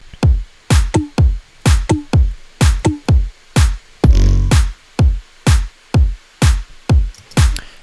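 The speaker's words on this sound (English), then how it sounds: "There's a kick, there's a couple offbeat toms, a clap, and then just a tiny bit of percussion loop." Simple EDM drum loop from a dance-track remake drop: punchy kick, a couple of offbeat toms, a clap and a light percussion loop, hitting in a steady, driving rhythm, loud and alone with no talking.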